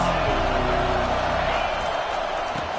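Roaring college football stadium crowd noise, a dense continuous wall of cheering and yelling from a packed crowd trying to rattle the offense, loud and unbroken throughout.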